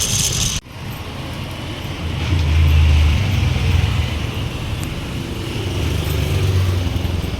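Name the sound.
motor vehicle being driven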